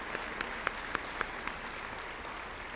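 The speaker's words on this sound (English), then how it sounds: "Please give them a big round of applause." An audience at a job hunters boot camp event applauds a group of people, heard as a handful of distinct, fairly faint claps spaced about a quarter second apart over a steady hiss of crowd noise, tapering off after about a second and a half.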